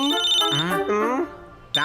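A cartoon telephone rings with a melodic, voice-like ringtone over a steady high beep. It plays in short phrases, breaks briefly, and then starts again.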